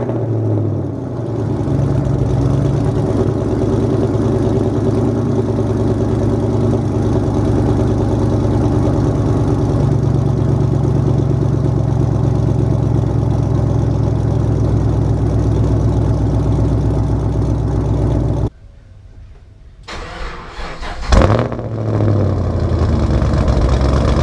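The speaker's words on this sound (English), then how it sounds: "I will say this, the car is a lot quieter at idle." A car fitted with long tube headers idles steadily and loud for about eighteen seconds with a deep, even exhaust drone, then cuts out briefly before the engine note returns with a short rev.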